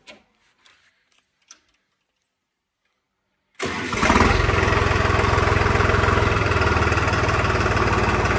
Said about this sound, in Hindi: तो किसान भाइयों अब आपको ट्रैक्टर की आवाज़ सुनाते हैं